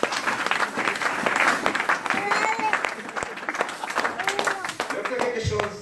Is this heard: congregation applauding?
yes